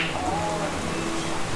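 Sudden heavy rain pours down during the rainy season in Thailand, near a bar on Soi 4, as a steady, even hiss of downpour that fills the whole moment without a break.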